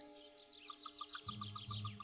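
A female mandarin duck gives an evenly spaced series of short, clear calls to her day-old ducklings at a tree-hole nest, with high chirping overhead and a low rumble building in the background.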